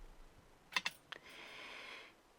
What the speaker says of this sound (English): I spilled the entire container of embossing powder